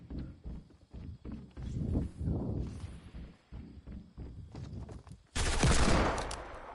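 Single sharp gunshot in a first-person shooter game, heard amid dense in-game footsteps and clatter, followed by a loud broadband burst of gunfire noise near the end.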